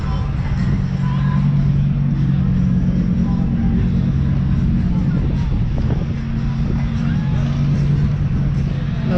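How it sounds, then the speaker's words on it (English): A Lamborghini race car at the TX2K26 drag event at Texas Motor Speedway, its engine a low steady rumble under crowd babble and voices, continuous and fairly loud. "Another Lambo."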